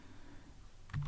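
Keys on a computer keyboard are pressed in a short burst of typing, a brief quiet clatter of a few close clicks at the very end after near silence.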